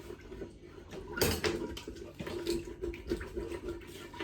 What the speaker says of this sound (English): So pour in our cup of broth.